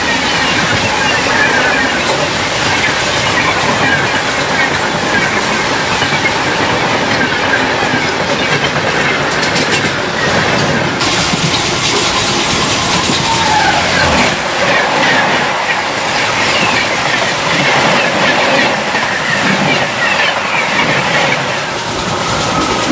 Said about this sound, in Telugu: ఇప్పుడు అయితే చూడండి పెద్ద పెద్ద ట్రైన్స్ అన్ని క్రాసింగ్ మామూలుగా ఉండదు.